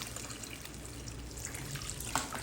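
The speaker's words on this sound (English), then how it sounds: "I'm going to add a little bit more water." Water poured into a pot of oxtail, a quiet steady stream trickling and splashing in a home kitchen.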